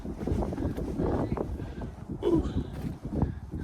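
Wind gusting across a rocky mountain overlook on the Appalachian Trail, a steady rushing roar with buffeting on the microphone that swells and eases throughout.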